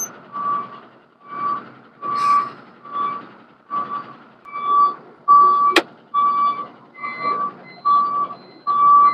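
A truck's reversing alarm beeps steadily and loudly at a regular pulse about once per second as the truck is backed out of a company yard, with no talk over it.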